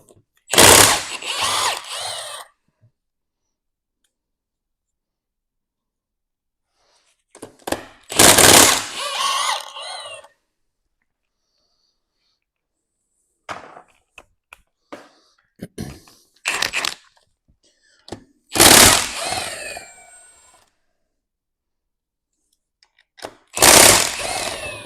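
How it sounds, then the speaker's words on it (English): Power tool bursts break loose and spin out a cylinder head stud on a Classic Mini engine during a strip-down, several loud whirring runs of one to three seconds separated by silence. "I just brought the head stud out"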